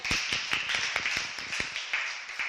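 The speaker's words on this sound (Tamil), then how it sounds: "எல்லாரும் கை தட்டுங்க" Children clapping their hands in a classroom, a burst of quick, irregular, fairly close claps that continues throughout.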